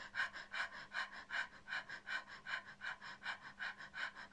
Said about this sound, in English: Because I'm doing the panting.